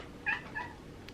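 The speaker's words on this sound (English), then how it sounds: "Look at this cat." A cat gives a short, faint meow with a second softer call just after, heard alone in a quiet indoor room.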